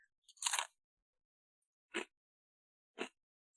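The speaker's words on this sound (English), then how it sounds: "we'll give you the crunch in case you've been curious about Carnivore Crisps and you've never actually tried one" Three sharp, close crunches from biting a Carnivore Crisps snack: a longer crackling bite first, then two short snaps about a second apart, in otherwise silent surroundings.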